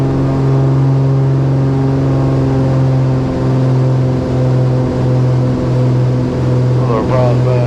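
Twin engines of a Beechcraft G58 Baron droning steadily in the climb just after takeoff, a loud continuous cabin hum with strong harmonic tones and a slight pulsing beat throughout, with no talk over it.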